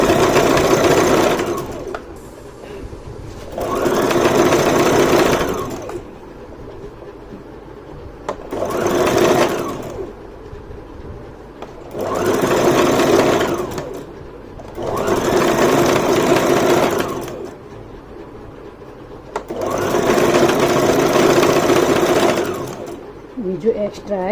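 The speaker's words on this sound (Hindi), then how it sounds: "बिल्कुल किनारे पे सिलाई लगाएंगे।" A Brother GS1700 sewing machine stitches along the very edge of fabric strips for a poncha cuff design, running in six steady bursts of close, loud motor hum with short pauses between runs while someone speaks in the pauses.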